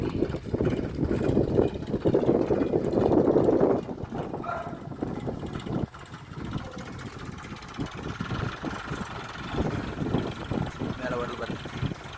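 A tractor-driven rig drills a well nearby on farmland, its engine a low, steady rumble that surges louder early on, then settles into a quieter idle while someone talks over it.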